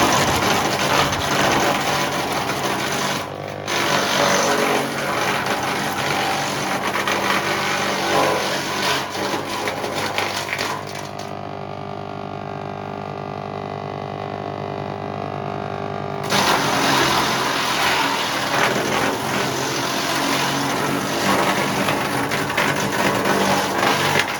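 A wood chipper shreds branches of about 5-6 cm: a loud, steady mechanical engine roar with grinding and crunching, continuous throughout, easing briefly in the middle before rising again.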